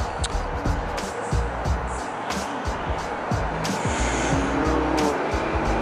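A BMW 340i drives up outdoors, a busy, broadband motor sound with scattered sharp transients and brief squeal-like streaks, steady and moderately loud throughout.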